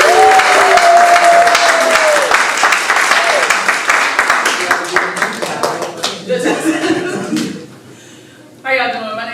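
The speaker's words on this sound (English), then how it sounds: "Clap for yourselves." An audience at an open mic poetry night breaks into loud sustained applause and clapping that tapers off, with a voice speaking briefly over the end.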